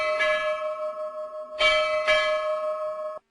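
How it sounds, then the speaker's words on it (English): A ship's bell rings with three clear strikes, the last two close together, each leaving a bright, sustained ring before stopping suddenly. "And a bell."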